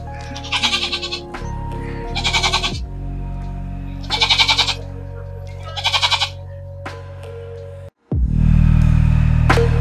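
A goat bleats four times in rhythmic, wavering calls, close by, over a steady low hum; a louder rumble of noise follows.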